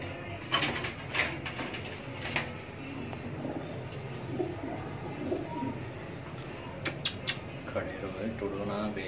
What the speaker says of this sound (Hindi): आपका भाई मोसा नाजी आपको शो करवा रहा है परिंदों का, ये देख लें